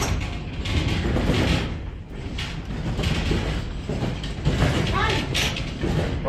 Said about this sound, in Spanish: Es temblor.